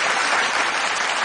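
A television game-show studio audience breaks into loud, continuous applause, a dense wash of clapping hands with no pause.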